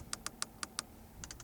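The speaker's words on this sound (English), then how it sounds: "Also nice clicking sounds." Crisp button clicks from the climate control panel of a 2018 Jaguar XE R-Sport, five evenly spaced sharp clicks followed by a quicker cluster of softer taps, close and alone.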